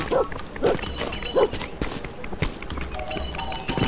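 Dog barking three times in quick succession in the video game 1428: Shadows Over Silesia, followed by footsteps and clopping hooves alongside in-game ambient sounds.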